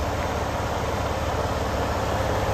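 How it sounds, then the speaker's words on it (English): Air compressor on a 2022 Western Star 560HP automatic truck running as a steady, loud, broadband whooshing drone with no breaks. "right now what you're hearing is actually the air compressor"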